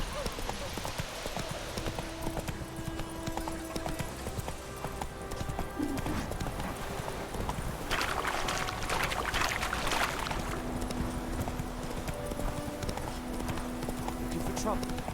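Roach the horse gallops in The Witcher 3, rapid hoofbeats pounding under game music and ambient noise, close and sustained, while voices speak over parts of it.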